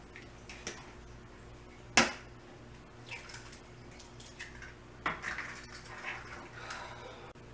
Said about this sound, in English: So let's get these 4 eggs cracked.